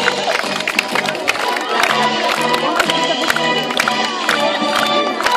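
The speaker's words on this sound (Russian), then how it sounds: "Ваши аплодисменты!" A stadium crowd at the opening of a summer camp's small Olympic games cheers and claps as a runner carries the Olympic flame, loud and continuous with sharp claps and shouts over a busy crowd roar.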